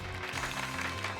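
Brief dense clapping from a crowd cheering Pikachu in the Pokemon Violet video game, a steady patter of many hands at moderate volume with no voices over it.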